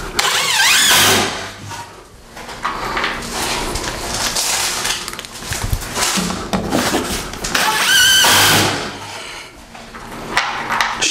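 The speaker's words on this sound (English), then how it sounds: "Go ahead and put a few screws in this." A power drill drives screws into Hardie trim nearby, with loud whirring bursts that ramp up and down, separated by brief pauses and light clatter.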